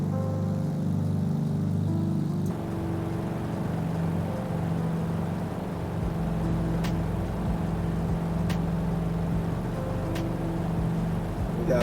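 Simulated P-51 piston aircraft engine in Microsoft Flight Simulator, a steady droning hum that shifts pitch slightly after a couple of seconds and then holds at a constant loud level.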